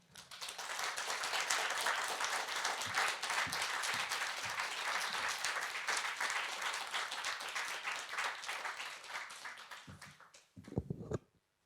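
Sustained audience applause rises after a poem at a library stage event in Exeter, holding steady for several seconds before fading, with a voice entering near the end.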